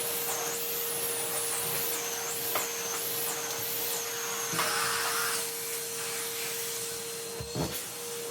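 A Henry vacuum cleaner runs on a small patch of carpet, a loud steady whine and hiss of strong airflow with a constant hum and brief bumps, no talk.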